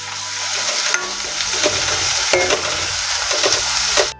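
Tomatoes are stirred into a chicken curry pan, a loud close sizzle broken by repeated scraping and clinking strokes of a spoon, stopping abruptly at the end.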